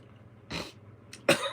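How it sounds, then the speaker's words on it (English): A person clears their throat indoors, two short rough bursts close to the mic, the second sharper and louder, with a brief small rasp between them and no talking. "I have to clear my throat."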